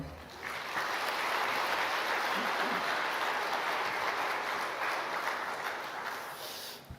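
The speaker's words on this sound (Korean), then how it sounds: "우리 아무튼 나올 때 큰 박수로 맞이하겠습니다." A church or lecture-hall audience claps to welcome a guest speaker onto the stage, a dense, steady burst of applause lasting several seconds before fading.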